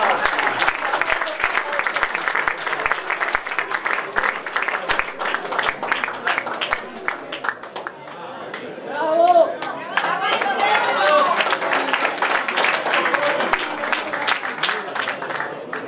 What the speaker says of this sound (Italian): Ancora applausi, ancora applausi.